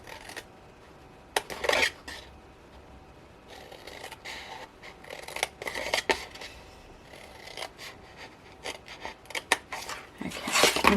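Scissors cutting straight lines through paper panels for a handmade gift box, a series of short crisp snips and rustles in close bursts with quiet pauses between, no talking.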